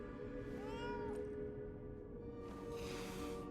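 A cat in the game Lies of P lets out a drawn-out meow over a steady low game ambience, followed by a softer, hissy vocalization.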